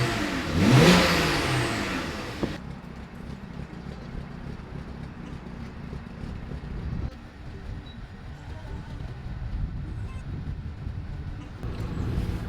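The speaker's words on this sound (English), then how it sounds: "just revving it at idle" BMW 335i with the N54 engine, freshly given a cooling system overhaul, revved at idle: one loud rising-and-falling rev at the start, then a steady engine drone that continues with some background noise.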